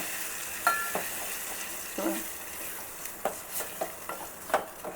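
Peanut chutney is poured into a hot turmeric tempering and sizzles, a close hiss punctuated by several sharp pops and stirring clicks at uneven intervals.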